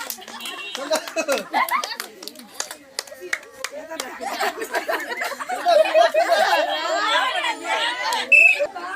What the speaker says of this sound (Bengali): দাও তালি ভালো খেলছে ভালো খেলছে